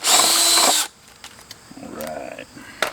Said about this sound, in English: I'm going to drill this hole